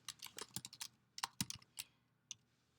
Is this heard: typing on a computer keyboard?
yes